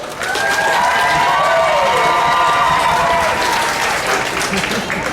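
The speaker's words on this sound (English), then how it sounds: "your applause will decide this" A crowd at a county fair combine demolition derby bursts into sustained applause and cheering, steady and loud for several seconds, with shouts and whoops rising over the dense clapping.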